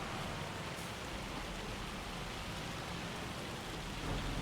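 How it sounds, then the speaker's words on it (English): Heavy hail pounding down steadily in a farming game set in Riverbend during spring planting, a dense, constant hiss and patter with no voices. "the hail is coming down hard now."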